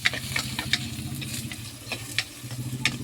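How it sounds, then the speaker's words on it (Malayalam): Chopped onions, shallots and green chili sautéing in a pan for a fish curry, with a steady sizzle and repeated scraping stirs, close and moderately loud, no talk. "നന്നായിട്ടൊന്ന് വഴണ്ട് വരട്ടെ"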